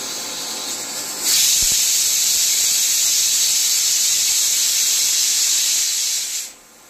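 Steady, loud hiss of steam escaping from a Prestige pressure cooker on an induction oven, starting abruptly after a quiet moment with a brief knock, holding for about five seconds, then cutting off.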